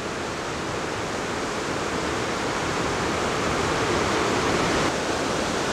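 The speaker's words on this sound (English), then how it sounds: "here's a close-up shot of the stream going through the gorge here." Stream rushing through a rocky gorge near Lincoln, New Hampshire, a steady dense roar of water heard close and alone without a break.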